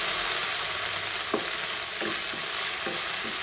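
Garlic fries in cooking oil in a pot with a steady, loud sizzle, broken by a few soft scrapes and clicks of stirring.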